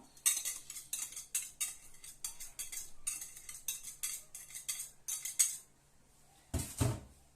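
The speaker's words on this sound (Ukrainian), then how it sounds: "Перемішуємо" A metal spoon scrapes and clinks against a bowl while ground chicken liver is stirred together with onion, a quick steady rhythm of close scraping strokes that stops near the end before one last heavier scrape.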